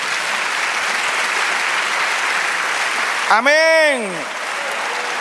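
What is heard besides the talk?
audience applause in church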